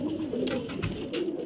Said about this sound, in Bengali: এই যে ফ্রেন্ড দেখতে পাচ্ছেন এই একটা মাদি পায়রা